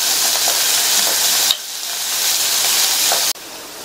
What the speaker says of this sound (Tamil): மீடியம் ஃப்ளேமில் வச்சு ஒரு 2 நிமிஷத்துக்கு வதக்கி விட்டுக்கங்க.